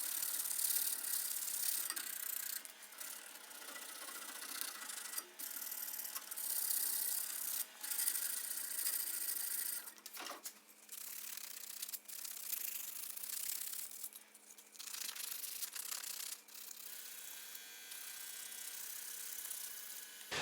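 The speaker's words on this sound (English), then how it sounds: "So let's sand it, see how she turns out." Steady hand sanding of a handmade wooden spatula, a continuous close rasping rub with short pauses and a brief break midway, without talk.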